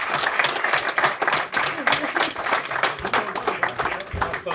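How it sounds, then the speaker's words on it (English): Comedy club audience applause, lively clapping and crowd noise rising and falling over several seconds, fairly loud and close, with a voice briefly audible beneath it. "Can we have a round of applause"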